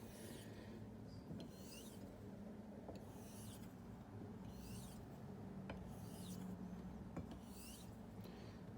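A Solingen straight razor is honed on a wet natural stone in slow, rhythmic strokes, each a soft, close hiss, repeating about every second and a half over a steady low background hum.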